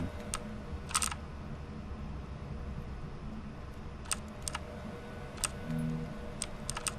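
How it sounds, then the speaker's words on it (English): Clicky keyboard typing in bursts of sharp taps over a steady low hum while playing the puzzle game Our Secret Below, with uneven pauses between keystrokes. "I can hear my keyboard sounds."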